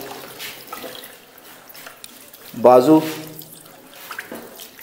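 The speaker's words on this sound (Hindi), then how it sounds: "और उसके बाद ये बाईं साइड पर हम पानी डालते हैं" Water poured over a body during a ritual washing of the deceased splashes in one loud burst midway, with quieter trickling before and after, and a person speaks over it.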